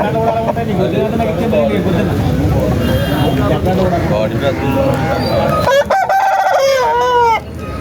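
A rooster crows loudly and repeatedly near the microphone at a country chicken market, with clucking hens and chatter from people in the background.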